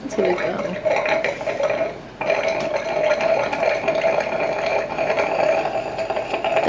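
Yarn passing through a steamer at a natural fiber mill gives off a continuous broadband hiss of steam over machine rumble, loud and close, with a short dip before it surges back.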